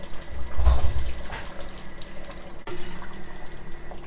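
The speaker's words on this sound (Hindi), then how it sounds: "थोड़ा सा हम पानी इसमें शामिल करेंगे।" Water is poured into a pot of chicken handi, a Mughlai dish cooked with an almond and cashew paste. A brief gurgling splash up close is followed by a softer trickle.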